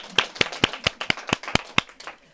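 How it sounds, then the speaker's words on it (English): A single pair of hands claps in an even rhythm at a presentation and book signing event, about ten sharp claps in two seconds, fairly close. "I got to give you an applause."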